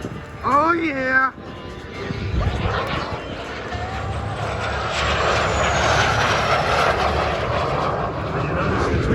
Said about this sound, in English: You notice the Tweety Bird has a high-pitched whine as it goes by. That high-pitched squeal is generated by the jet engine it takes.